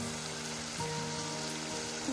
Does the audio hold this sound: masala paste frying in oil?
yes